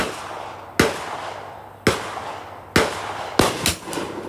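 CZ 457 rifle firing Lapua CenterX ammunition: five sharp, fairly loud shots, the first three spaced about a second apart, then two in quicker succession, each with a short decaying tail over quiet background.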